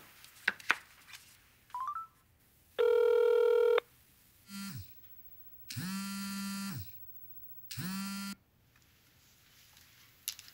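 An indoor telephone rings in repeated electronic bursts, several short buzzing rings separated by pauses, close and clear with faint clatter before the first ring.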